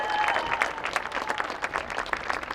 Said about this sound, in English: Let's give one more round of applause for our incredible senior players.